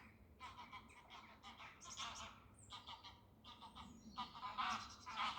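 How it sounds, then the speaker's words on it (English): Geese honk repeatedly in uneven bursts, with pheasant calls mixed in, moderately distant outdoors in woodland. "Oh, that's pheasants as well. Pheasants, geese."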